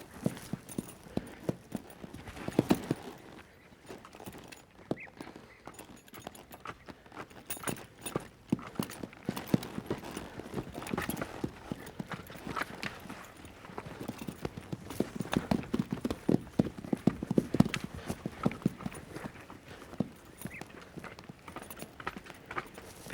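Horse hooves clip-clop in a long irregular series of sharp knocks, some clustered and quicker, heard close over a quiet background with occasional faint sounds.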